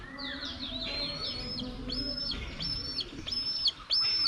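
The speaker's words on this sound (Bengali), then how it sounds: "এইগুলো পাখি ডাকতেছে।" Birds chirp at a zoo in Sreemangal, bright repeated whistling calls in short rising phrases, moderately close over a low background hum.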